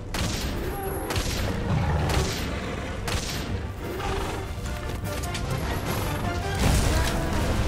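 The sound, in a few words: gunfire at a monster, from a video game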